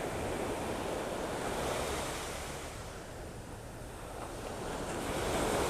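Ocean surf washes in continuous, rolling waves at a beach in North Naples, Florida, swelling and easing with steady wind noise over the microphone and no talk.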